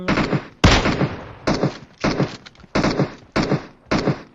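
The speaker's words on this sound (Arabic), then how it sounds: "اوف اعطيته طلقة من بعيد" Gunfire in an online shooter game rings out as a string of about eight loud, sharp shots at fairly even intervals, punchy and close, with no talk between them.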